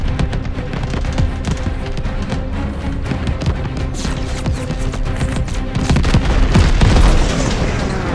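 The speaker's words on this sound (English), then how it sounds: "Watch that tracer fire" Anti-aircraft tracer fire in Call of Duty Vanguard during the Battle of Midway: a dense barrage of booms and popping bursts rumbles continuously under loud engine drone, swelling heavier near the end.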